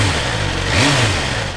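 A sports motorcycle engine, a delivery-condition bike, catches and revs up with a single rising sweep before settling back to a steady idle, loud and close with no talk over it.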